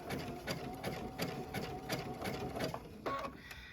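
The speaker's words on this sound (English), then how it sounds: "I'm just gonna keep sewing." A sewing machine stitches a large oval rope bowl with a quick, rhythmic mechanical whir and needle clatter, running steadily at close range and briefly shifting near the end.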